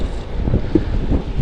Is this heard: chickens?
no